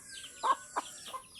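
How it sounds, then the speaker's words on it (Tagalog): Backyard chickens clucking nearby, three short soft clucks spaced out over quiet background, no one talking. "Oh, akong mga manok oh."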